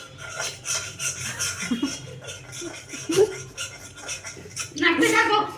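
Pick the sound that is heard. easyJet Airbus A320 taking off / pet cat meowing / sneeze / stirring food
stirring food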